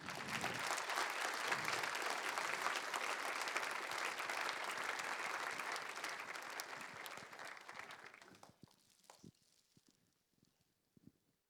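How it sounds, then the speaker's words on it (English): Sustained applause from an award ceremony crowd claps steadily for several seconds, then fades out into a few scattered, isolated claps. "so give a big applause to Annabelle, please, as well."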